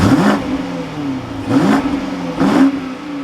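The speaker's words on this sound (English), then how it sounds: "But let's fire this M50i back up." A 2023 BMW X5 M50i engine, close and loud, revs three times in quick separate bursts, each rising and falling back to idle with no talk over it.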